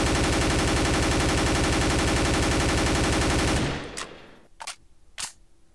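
Sustained rapid automatic fire from an M4A4 rifle in a video game, loud and dense for several seconds, then cutting off into a few sharp separate bursts with quiet gaps.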